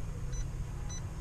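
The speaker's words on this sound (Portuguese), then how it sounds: "Ó o bip, pessoal." Parking sensor on a Toyota Corolla Altis Premium Hybrid beeping as the car is put in reverse: two short, thin electronic beeps about half a second apart, faint over a steady low cabin rumble.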